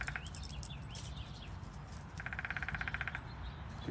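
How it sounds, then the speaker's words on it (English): A woodpecker up in a tree drums in a quick, faint rhythmic burst of taps, heard at a distance amid birdsong chirps and low background noise outdoors. "Can you hear that woodpecker?"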